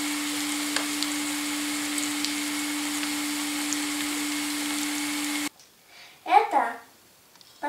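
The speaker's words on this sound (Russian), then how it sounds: "Жареные грибы с луком." Sulphur shelf mushrooms fry with onion, salt and spices, giving a steady, close sizzle for about five seconds before it stops abruptly and a short voice follows.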